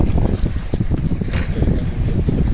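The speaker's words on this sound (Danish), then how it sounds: "Ja, der er det jo lidt vind." Wind gusts across a ferry deck near Svendborg in autumn, a steady, loud, close rumble of buffeting air over the low drone of the boat, with no one talking.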